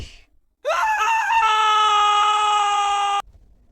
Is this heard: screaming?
yes